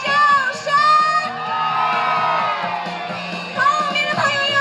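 A concert crowd at a Taiwanese pop show screams and cheers in a dense, sustained wash of high voices, loud and continuous, swelling again near the end with bursts of whoops.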